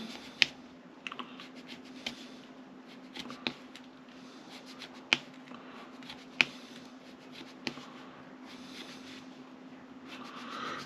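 A knife pares thin shavings off a small wooden bowsprit for a Model Shipways US Brig Syren model, faint scraping strokes broken by several sharp clicks and taps, close and quiet with no talking.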